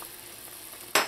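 Couscous being mixed into a pot of boiling water, with a soft bubbling hiss and light stirring throughout, then a sudden louder scrape or splash near the end.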